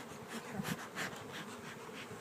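Honey bees buzz around an open hive as it is worked, a close, dense drone with swelling passes as individual bees fly near, and one brief spoken word over it.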